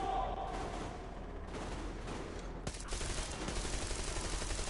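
Sustained covering gunfire in Metro Exodus: a dense, continuous volley of rapid shots from several weapons, loud and close, building in intensity.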